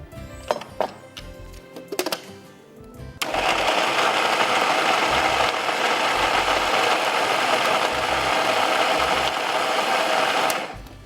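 A kitchen blender grinds fried bhindi (okra) with a little water, a loud steady whirring motor that kicks in after a few clunks and runs for several seconds before cutting off.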